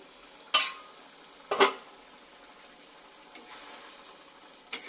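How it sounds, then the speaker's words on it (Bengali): A cooking pot lid clanks as it is lifted off a pan of prawns in poppy seed paste, with a sharp metallic knock, a double clatter a second later and another clink near the end over a faint kitchen hiss. "এবার ঢাকনাটা খুলছি"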